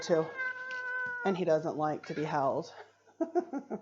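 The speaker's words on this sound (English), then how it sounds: "That's my cat." A domestic cat meows several times in quick, drawn-out calls, close by, mixed in with a person talking.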